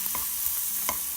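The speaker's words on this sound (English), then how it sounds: "you do want to hear that sizzle, so you know that it's cooking" Omelette cooking over medium-high heat in a frying pan, giving a steady close sizzle with a few soft stirring scrapes, no talk.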